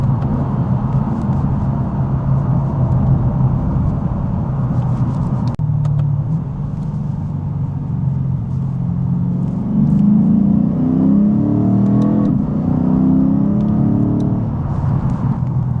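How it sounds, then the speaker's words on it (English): Deep, throaty exhaust note from a Lexus RC F fitted with Apexi axleback mufflers, sustained revving and acceleration that rises and falls, loud and close, with no talk. "Again, this is just the muffler replacement from the OEM mufflers to the Apexi mufflers, and just sounds so good."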